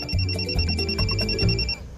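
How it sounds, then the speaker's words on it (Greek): A mobile phone ringtone plays in a steady repeating electronic pattern, fairly close and clear, with no talking over it. "Πω, χτυπάει το κινητό μου."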